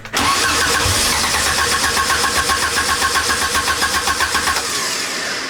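A vintage car engine cranks with a rapid rhythmic chugging from the starter, loud and close, continuing steadily for several seconds without catching, with no talk over it.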